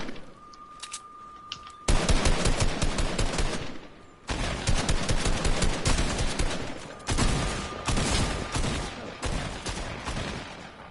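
Rapid bursts of gunfire from the video game Fortnite come in several loud, dense volleys separated by short pauses, with a faint tone underneath in the opening quiet stretch.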